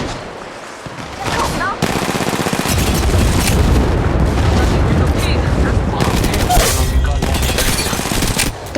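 Dense, loud automatic gunfire and explosions from the mobile shooter game Apex Legends Mobile roll continuously after a quieter opening moment, with in-game voice lines mixed in.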